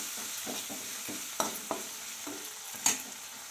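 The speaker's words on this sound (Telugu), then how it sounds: "మొత్తం ఇలా కలిసేటట్టు కలదిప్పి" Liver fry with amaranth leaves being stirred in a pan, with soft scraping strokes and a few sharper knocks over a low, quiet sizzle, close and without talking.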